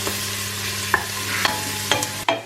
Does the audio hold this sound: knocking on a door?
no